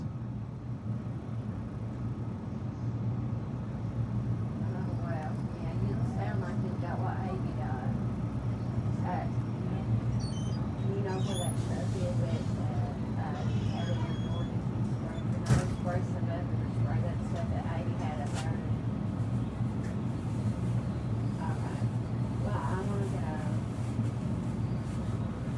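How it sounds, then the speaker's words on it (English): Two train locomotives idle in a rail yard while their air compressors pump up air for the brakes, giving a steady low mechanical drone with rhythmic chugging throughout, and people talk over it now and then. "You're now pumping up the air compressor on the 2 engines, making air"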